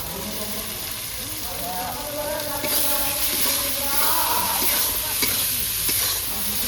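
Ground melon seed and cashew paste hits hot oil in a frying pan for a vegetarian shahi paneer gravy, giving a steady close sizzle with scraping stirs throughout and a faint voice in the background.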